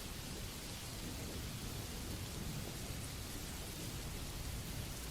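Rain falls steadily outside a candlelit bakery with a deep rumble of thunder underneath, a dense, even wash of sound at moderate distance with no voices.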